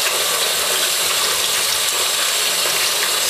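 Tap water gushing steadily from an opened faucet, a loud continuous rushing hiss with faint rattling underneath.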